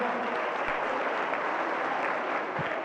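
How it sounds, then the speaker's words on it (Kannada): Audience applauding at a school's 25th anniversary programme, a dense, steady wash of clapping from many hands that fills the whole stretch without a break. "ಎಲ್ಲರೂ ಇನ್ನೊಂದ್ಸಲ ಜೋರಾಗಿ ಚಪ್ಪಾಳೆ ತಟ್ಟಿ ನೋಡೋಣ"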